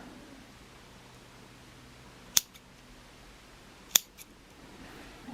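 Scissors trim crochet yarn on a miniature crochet vampire with two crisp, close snips a moment apart, then a fainter click, over quiet room hiss.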